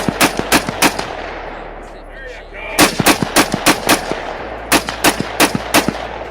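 AR-15 rifle shots fired outdoors, loud close cracks in quick bursts, about a dozen shots in uneven rhythm with a brief pause in the middle.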